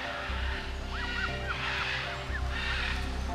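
Alagoas curassow, a large bird extinct in the wild, giving a few short hooting calls spaced close together over a low mechanical hum, moderately near.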